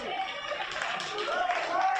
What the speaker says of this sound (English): In a crowd like that, there's some applause down on the sideline.